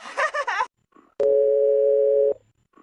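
A telephone ringback tone while calling a number: one steady, loud electronic tone lasting about a second, heard right after a brief spoken voice.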